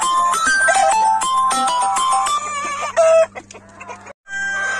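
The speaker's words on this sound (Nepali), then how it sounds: "ल हेर्नुहोस्, भाले पोथीहरू यस्तो खालको छ।" Roosters and hens of a local chicken breed at a hatchery, clucking and calling loudly and close by in a busy, overlapping chorus, with a steady electrical hum beneath and no talk.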